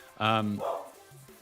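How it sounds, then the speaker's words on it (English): A single dog gives a couple of sharp, close barks, loud and brief, followed by a quieter trailing sound. "sorry, dog barking."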